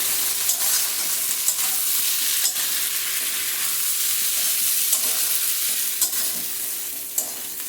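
Soybean curry with potato, squash and spices is stirred and fried in a pan, producing a continuous close sizzle with regular spatula taps and scrapes.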